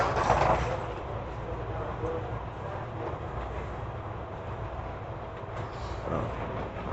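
A BART subway train at Montgomery Street Station rumbles steadily with broad low noise, a brief louder burst at the start and a faint voice or announcement mixed into the din.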